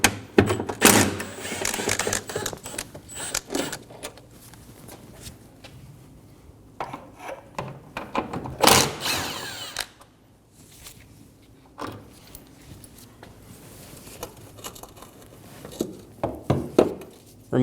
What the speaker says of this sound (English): Using a 10mm socket, remove the bolts for the wiper transmission.